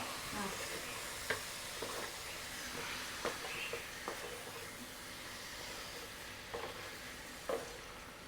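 Chicken curry masala is stirred in a pan over a faint, continuous low sizzle, with a few soft spatula clicks spaced irregularly.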